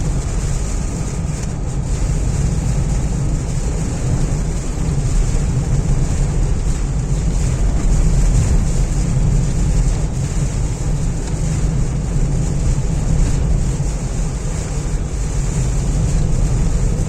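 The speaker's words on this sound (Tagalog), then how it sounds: "Medyo mataas ang hangin niya na, Chard, no?" Steady, loud roar of strong wind from Typhoon Marce buffeting the microphone, continuous and broadband with no pauses, with no voices present.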